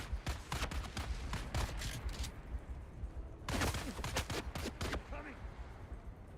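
Rapid volleys of gunfire in the Dune: Awakening video game, clustered in two loud bursts of repeated shots with a busy, dense backdrop between them.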